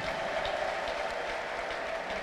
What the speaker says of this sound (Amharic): ለጌታ እልልታና ጭብጨባ ስጡ